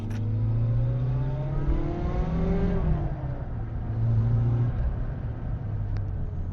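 Volkswagen Golf 2 GTI G60 with its supercharged engine accelerating, heard from inside the car: a steady low engine drone rising in pitch through the revs, dropping at a shift, then climbing again.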